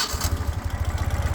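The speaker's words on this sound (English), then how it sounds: "See, it cranks right over, no hesitation." A cold 2014 Ural Patrol motorcycle engine cranks briefly and catches, settling into a rapid, even, low thumping idle, close and loud with no voices.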